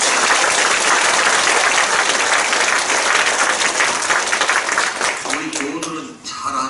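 A church congregation at a Korean pastor's installation thanksgiving service applauds to welcome a guest, sustained dense clapping from a large crowd that tapers off near the end as a voice begins.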